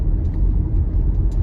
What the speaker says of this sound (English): And here's a car coming towards me.